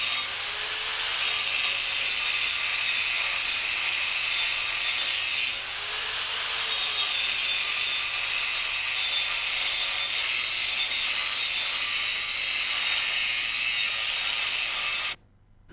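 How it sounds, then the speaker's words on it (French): An angle grinder with a thick grinding wheel finishing a vertical-up butt weld made by MAG welding: a loud, continuous high-pitched grinding whine with slight pitch dips, steady until it cuts off near the end. "Finition à la meule épaisse."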